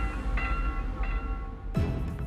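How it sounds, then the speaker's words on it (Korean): A train doing 68 km/h brakes at a railway level crossing with tonal squeals, then strikes a village bus stalled on the tracks in a sudden loud crash, with no talk. "기관사는 건널목 관리원의 수신호를 발견하고 곧바로 열차를 제동합니다"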